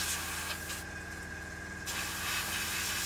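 A steady aerosol spray paint hisses close by for about a second while painting the radiators of a 1/48 scale Spitfire model kit, set against a constant background hum and noise.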